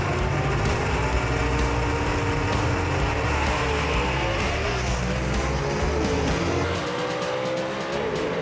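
A 1958 Delray gasser drag car launches hard off the line at a drag strip, its loud, raw engine roar filling the air with a brief tire squeal before the roar thins and drops away near the end.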